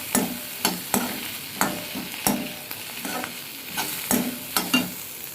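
A large tomato fries for pirandai chutney while a spatula stirs the pan in regular sweeps. Each sweep brings a crisp scrape and a burst of sizzling, close up with no voices.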